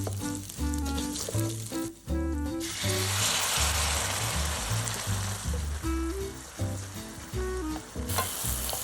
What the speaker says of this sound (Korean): 넣고 잘 볶아주다가 화이트 와인 넣고 한번 싹 알코올 날리면서 볶아주도록 할게요.